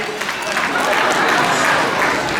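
A crowd at a Bay Area Telugu association Ugadi celebration in the USA applauds loudly, a dense, sustained roar of many hands that swells slightly midway and holds to the end.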